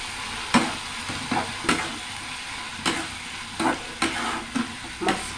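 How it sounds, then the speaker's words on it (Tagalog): Mung bean stew with shrimp being stirred in a pot over a firewood fire, with repeated loud scraping strokes of a spoon at an uneven rhythm over a constant hiss, close up. "Haluin natin."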